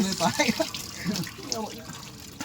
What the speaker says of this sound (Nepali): यहाँ बेसिन सेसिन रहेछ, मुखसुख धोइदिउँ केटा हो